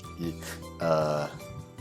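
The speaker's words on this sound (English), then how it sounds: "Burp." A video game character lets out a drawn-out voiced burp, a low guttural belch with a short lead-in grunt, close and fairly clear with no other sounds.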